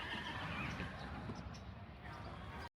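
Marismeña horses at a Doñana mare round-up in Almonte, neighing and whinnying amid a loud, continuous mix of hooves and crowd noise, with voices underneath throughout.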